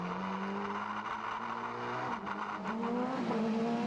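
A Citroën Super 1600 rallycross car accelerating out of the Joker lap at a Maasmechelen race, engine notes climbing through gear changes over a steady track roar, heard at a distance.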